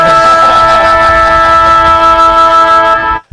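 A man imitates a foghorn with his mouth, a loud, sustained droning blare held for about three seconds before it abruptly cuts off.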